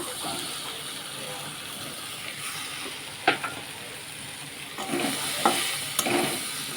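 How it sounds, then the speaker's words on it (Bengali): Fried potatoes are stirred into a sizzling pan of turmeric-and-salt curry base for a fish curry with taro greens. A continuous close fry hiss runs throughout, broken by a few sharp spatula knocks and scrapes against the pan. "এবার আমি দিয়ে দেবো সেই আমার ভাজা আলুগুলো"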